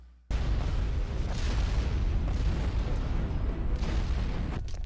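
A sudden loud boom followed by a sustained rumbling roar of explosions from the animated series The Legend of Korra, with heavy low-end blasts continuing throughout.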